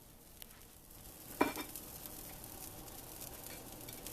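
Eggs for a veggie omelet hit a heated pot with one brief sizzling burst, then settle into a quiet, steady low frying hiss with faint stirring scrapes.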